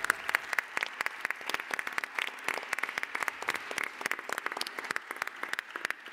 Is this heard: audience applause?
yes